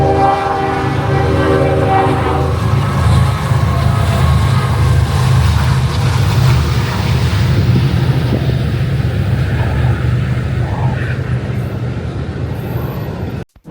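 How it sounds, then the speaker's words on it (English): A train rumbles past close by at a road crossing in Texas, loud and steady, with a sustained horn blast at the start before the roar fades slightly. "But first, here comes another train."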